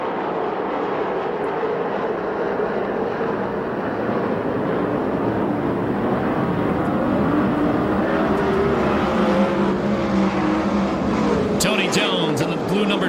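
USAC/CRA sprint cars race around the dirt oval at Perris, California, as a steady, loud engine roar with no clear gaps between cars; talk runs over the noise.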